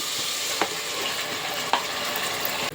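Mutton kheema with ground masala fries steadily in a pan, a continuous close sizzle broken by two brief stirring scrapes and a clatter near the end.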